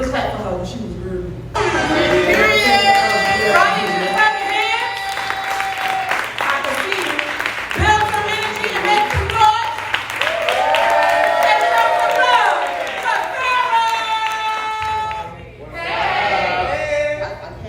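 An audience at a Houston poetry event claps and cheers loudly and steadily for most of the stretch, with brief lulls and voices and whoops rising over the crowd noise.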